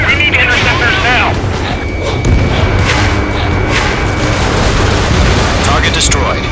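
A loud, rumbling blast from a target destroyed in the combat flight game Ace Combat 7, heard amid dense, continuous game noise with radio voice chatter over it.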